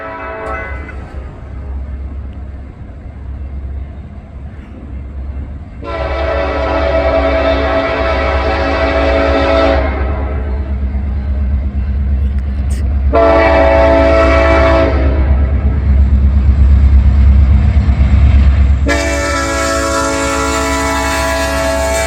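Norfolk Southern heritage locomotive 1065 leading a westbound manifest freight through Homestead, engine rumble loud and close under repeated blasts of the horn, three long sustained blows with gaps between.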